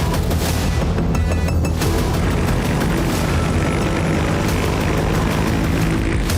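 A loud, continuous roar of a military cargo aircraft flying overhead, steady and close with no gaps.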